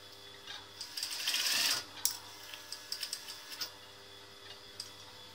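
A sewing machine stitching fabric, a short whirring mechanical run with rapid needle clatter, followed by scattered ticks and clicks as the work is stopped and adjusted, close and quiet with no talk.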